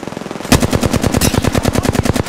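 Rapid automatic gunfire in the video game Apex Legends, a loud, steady burst of evenly spaced shots running for about two seconds with no talk over it.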